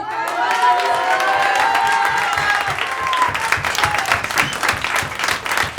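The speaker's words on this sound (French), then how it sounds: "on peut tous applaudir Vincent Jacquet" A theatre audience at the Théâtre du Garage applauds loudly and steadily, dense clapping mixed with some cheering voices throughout.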